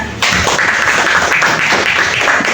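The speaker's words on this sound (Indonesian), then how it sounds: "Kita beri aplaus." Classroom applause for a student returning to her seat, a sudden burst of many small hands clapping that starts abruptly and keeps up a steady, fairly loud patter to the end.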